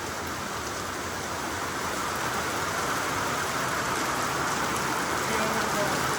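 Heavy night downpour drumming on a tin sheet roof at home, a dense, steady roar of rattling impacts filling the whole stretch, close and loud, with a voice faintly underneath.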